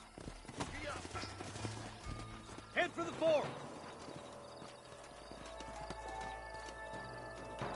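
Horse hooves clip-clop in Red Dead Redemption, a rhythmic trot slowing as the animals pull up, with a short whinny and characters talking over the hoofbeats.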